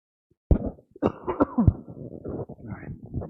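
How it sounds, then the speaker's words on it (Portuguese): A man clears his throat several times in quick, rough bursts, close and fairly loud, with a short cough-like rasp among them. "Pigarro, perdão"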